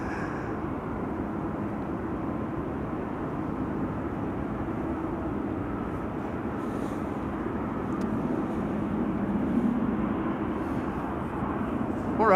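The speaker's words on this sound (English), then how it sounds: "Embraer 175 arriving from Munich over here, landing in the foreground" An Embraer 175 airliner lands at Amsterdam Schiphol, giving a steady broad jet roar heard from a distance that swells slightly toward the end, with no one talking.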